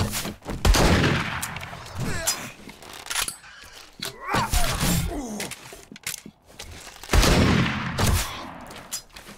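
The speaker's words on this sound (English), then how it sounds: "Alright, I'm gonna shoot him." Gunfire from a gun in the video game 7 Days to Die cracks out in several loud, sharp bursts, with players shouting over the shots.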